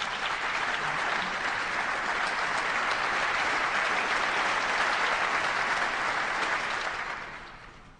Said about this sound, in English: It was nice to see a very generous round of applause for that.